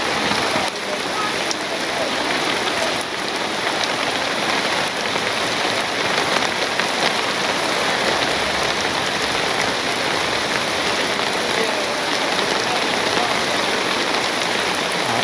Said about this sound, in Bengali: ট্রেনের মধ্যে বৃষ্টি পড়ে